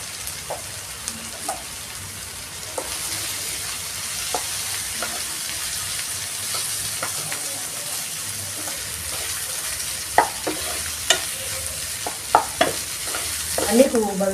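Potato being stirred into sautéed onion and tomato in a pan, with a continuous sizzle under repeated spoon scrapes and taps that grow louder and quicker toward the end.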